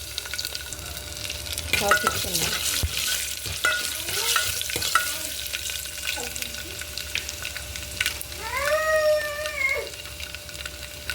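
Sliced onions are tipped into hot tempering oil with spluttering seeds and stirred, giving a loud, close sizzle with spoon scrapes. A few words are spoken, and a thin, wavering cry rises near the end.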